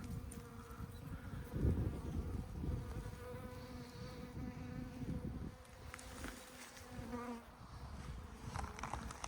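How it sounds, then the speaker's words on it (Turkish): Bees gather pollen and nectar on wild rosehip flowers, their close, continuous buzzing swelling and fading as individual insects pass near, with no talking. "öz toplayan arılar."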